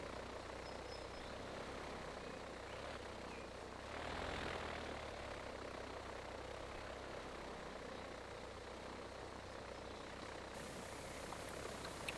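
Airplane engine in the Transport Fever 2 simulation game, a steady low propeller drone throughout, faint and distant, swelling slightly midway, with no talk.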